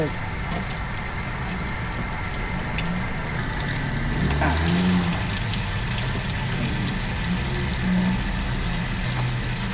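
Fresh mountain spring water pouring and splashing steadily as it is collected outdoors, a continuous rushing gush with faint voices and background noise around it.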